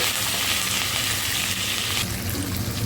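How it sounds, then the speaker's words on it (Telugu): Tempering of dried red chillies sizzles and crackles steadily in hot oil close by, a continuous bright frying hiss with no talking. "వేసి తాలింపుని బాగా వేయించుకోండి"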